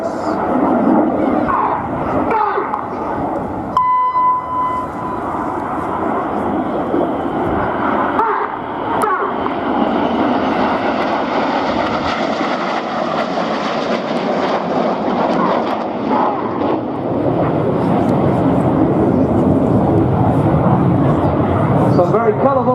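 Red Arrows jet aircraft perform a flying display at Scampton, with a continuous roaring engine rush that swells and fades as the jets pass, under an ongoing commentary voice.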